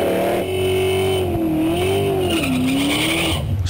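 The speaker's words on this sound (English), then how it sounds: "Small block Ford, nice burnout." Small block Ford V8 car doing a burnout, a steady loud engine drone holding a sustained tone that wavers in pitch as the revs rise and fall, with tire squeal and roar throughout and no talking.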